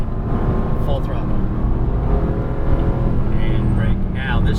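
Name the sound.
Mercedes-Benz AMG GT S engine at full throttle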